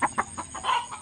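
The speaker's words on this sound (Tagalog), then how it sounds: "Mga manok nagtatago" Chickens cluck in a few short, close calls around harvested rice fields, with quiet gaps between the bursts.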